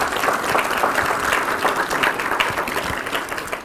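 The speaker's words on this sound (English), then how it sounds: "Let's give him another round of applause." An audience gives a round of applause for an honoree, a Tuskegee Airman, at a tribute ceremony, with dense clapping that swells slightly and stays loud throughout.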